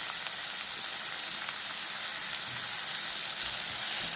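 Chopped onions, ginger and green chillies frying in oil for upma, a dense, even sizzle that stays loud and close from start to finish, with no pauses.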